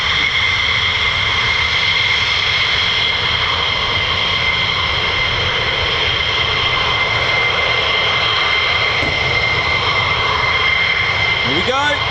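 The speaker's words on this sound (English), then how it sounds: "Get ready for the noise, afterburners." F-15E Strike Eagle and F-35A fighter jets at RAF Lakenheath roar on afterburner, a loud, sustained, tonal jet thunder with a continuous steady rumble throughout.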